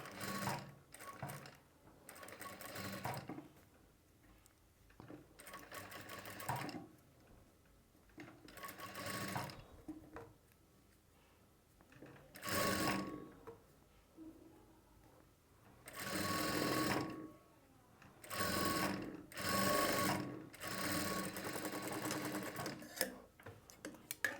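A sewing machine stitches piping onto a blouse using a piping foot, running in repeated whirring bursts of a few seconds with short pauses between them, close and alone in a quiet room.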